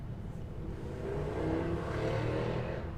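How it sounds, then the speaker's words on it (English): A motorbike passes by outside, its engine drone swelling and holding steady for a few seconds, with no talking. "Same motorbike every time"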